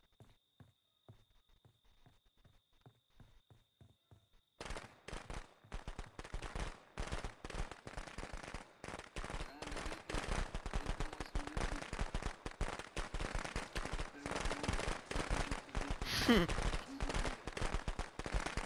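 Video game gunfire crackles in rapid, dense bursts after a few sparse opening taps, moderately loud and continuing through the rest of the stretch.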